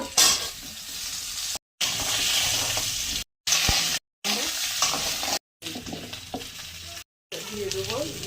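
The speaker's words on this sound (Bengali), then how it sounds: "আলুটা ভেজে নেব, বেশি তেল দেবো না, কারণ ঝিঙেও ভাজা আছে, মাছও ভাজা আছে।" Potato pieces sizzle and hiss in a modest amount of hot oil with dried red chillies and nigella seeds, crackling steadily in several bursts broken by brief silent cuts, with occasional stirring clinks.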